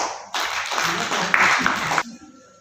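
An audience at a journalism ethics training talk clapping, a short burst of applause lasting under two seconds that starts abruptly and stops cleanly.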